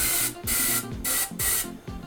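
An airbrush opened fully blasts paint-cleaning spray into an airbrush cleaning bottle in four sharp, loud hissing bursts, each followed by a brief pause, close up and without talk.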